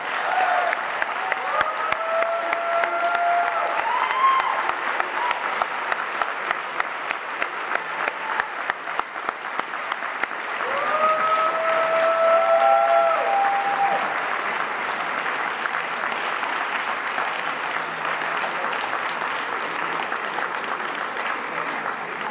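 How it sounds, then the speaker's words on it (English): An audience at a book release celebration breaks into sustained, dense applause, with a few whoops and cheers rising over the clapping, continuing loudly for over twenty seconds. "Please, let's give Mr. Haygood another Tigerland applause."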